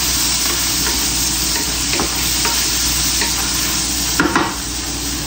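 Vegetables stir-frying with a little bacon in a pan, a loud continuous sizzle with occasional spatula scrapes and a brief clatter near the end, with no voices.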